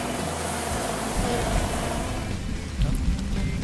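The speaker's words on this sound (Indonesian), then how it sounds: "Nanti aja masih hujan kok, sini aja berteduh." Heavy rain pours steadily on a quiet street, a dense, continuous hiss close by, with low rumbling underneath.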